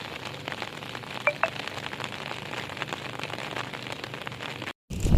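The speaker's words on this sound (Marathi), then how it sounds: "पाऊस येतात येतं, वारा पाऊस येता." Steady rain patters on surfaces outside a hillside village home in wind and rain, with no speech. A couple of faint high tones sound briefly, and the sound cuts out for a moment near the end.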